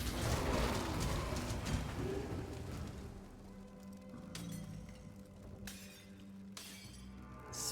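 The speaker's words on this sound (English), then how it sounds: "Smashing pots." Ceramic pots shattering one after another in the action game Path of Exile, a series of crisp breaking bursts with clinking debris over a steady low game soundscape.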